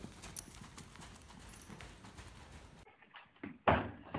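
Horse hooves clip-clop in a steady rhythm for a few seconds, then cut off to near-silence before a sudden loud thump.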